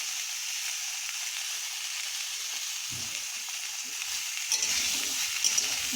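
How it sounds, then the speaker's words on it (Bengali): Vegetables and chopped onion fry in a pan, a constant close hiss of sizzling oil with occasional stirring scrapes near the end. "এটা খানিকক্ষণ হালকা করে আমরা ভেজে নেব।"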